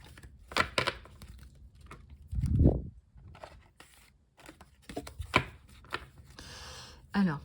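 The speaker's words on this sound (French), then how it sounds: "pour pas mélanger mes arcanes majeures non plus, je vais enlever certaines cartes que j'ai mélangées" Tarot cards being shuffled and handled by hand, with dry papery riffles and soft slaps in scattered bursts, close and fairly quiet, alongside a louder thump and faint background noise.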